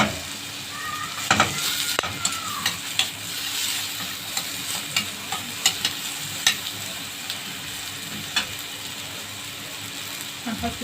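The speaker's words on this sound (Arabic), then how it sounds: "احنا هنخليها بس تاخد تشويحه كده خفيفه" Onion lightly sautéing in a pan, a continuous soft sizzle broken by frequent scraping and clattering utensil strokes, close up with no talking.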